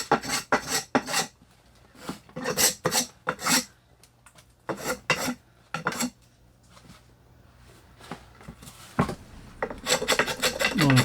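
A blade shaves a wooden axe handle in short, repeated raspy strokes, mostly in quick bursts of two or three with pauses, then a denser flurry of scraping at the end.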